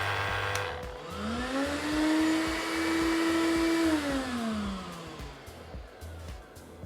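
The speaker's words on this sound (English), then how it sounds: "The extractor has now switched on, and this battery and the MIDI is now paired." A Festool CTMC MIDI cordless dust extractor running together with a sander whirs up to a steady whine, holds it for a couple of seconds and then winds down, close and moderately loud, with no voices.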